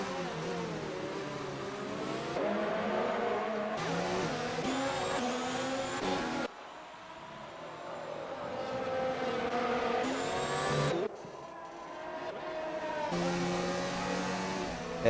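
Race car engines in a Formula 1 racing game around Mexico, Ferrari and McLaren among them, high screaming revs that rise and fall with gear shifts, loud and continuous, cutting sharply between cars.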